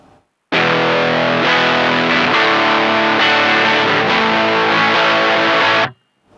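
A heavily distorted electric guitar plays sustained chords through a Guyatone three-knob RAT-style distortion pedal with an LM308 chip, loud and dense, ringing for several seconds before stopping abruptly.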